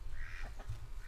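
Ducks quack in a chicken and duck enclosure, a couple of short nasal calls set over a steady low rumble of outdoor background noise, with no talking.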